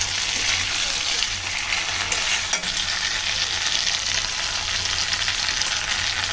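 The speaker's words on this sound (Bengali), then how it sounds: "এখন আমি জলের জন্য জল দিয়ে দেবো" Spices and taro root curry for a vegetarian kochur mukhi dalna sizzle loudly and steadily in hot oil as water is poured into the pan, a dense, continuous frying hiss with no voices.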